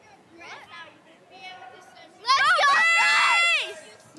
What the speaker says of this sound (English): Let's hear it from the Red Deer cheering section.